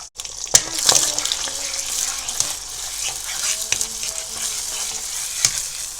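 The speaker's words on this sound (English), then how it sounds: "in my wok pan, I'm going to sprinkle a little bit of oil and just allow it to be nice and warm, and then I'll begin with my scrambled eggs" Scrambled eggs sizzling in warm oil in a wok, a steady close frying hiss with occasional sharper crackles and soft stirring scrapes throughout, no talking.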